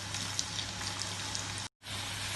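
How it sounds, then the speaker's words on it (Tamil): Potato french fries sizzling in hot oil over a medium flame during the first fry, a steady dense crackle and hiss, close and fairly faint, broken by a brief silent gap near the end. "இப்போ நம்ம முதல் தடவை ஃப்ரை பண்ணுறோம்."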